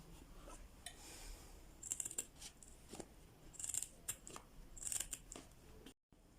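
Scissors snipping a notch into Halloween cap material, several quick close cuts in small bursts with faint rustling of the material between snips, quiet and without talk.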